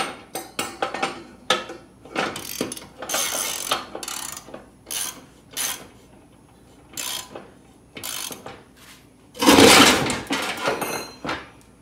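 A ratchet tightening bolts on a Toro zero turn mower deck gives short bursts of metallic clicking in irregular spurts between pauses, ending with a louder clanking burst.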